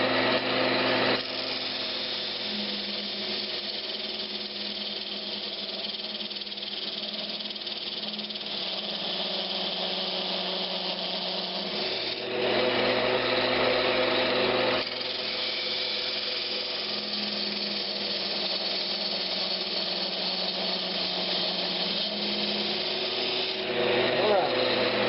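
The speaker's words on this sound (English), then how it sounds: "Now I'm ready to part this off" A wood lathe spins steadily while a tool parts off a Brazilian cherry lidded box, giving a continuous loud whirring drone with shifts in cutting tone partway through.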